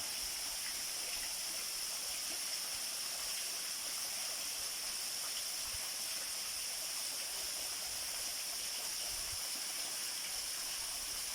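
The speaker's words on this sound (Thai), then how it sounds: "น้ำตกไหลลงมานะครับ" Pha Rom Yen waterfall in Uthai Thani, a mossy cascade with a water curtain, pouring down as a steady, dense, hissing roar with no pauses, close and constant.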